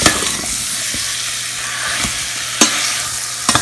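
Sweet potatoes fried in a pan and mashed with a spoon for a sweet dessert, loud steady sizzling punctuated by several sharp spoon knocks against the pan.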